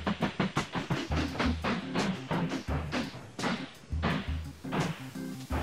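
A train moving in the tycoon game Mashinky: a loud, rhythmic clickety-clack of wheels over rail joints repeating in quick beats, with hissing bursts between them and no talk.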